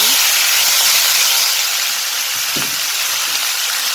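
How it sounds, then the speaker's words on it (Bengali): Crab pieces fry in hot oil in a home kitchen pan, giving a loud, steady sizzle and hiss that eases slightly partway through, with a soft stirring scrape and no talking. "কাঁকড়া ভাজা হয়ে গেছে তেলে নামে ফেলেন"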